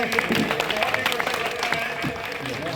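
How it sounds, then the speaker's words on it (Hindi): Audience applause at a gathering in Aakash Nagar Colony, a burst of clapping from a crowd that continues steadily under someone talking. "एक बार जोरदार तालियां बजाएं"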